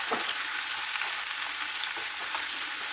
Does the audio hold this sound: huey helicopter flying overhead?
no